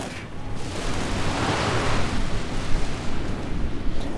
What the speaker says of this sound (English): And Panzer is firing away with reckless abandon.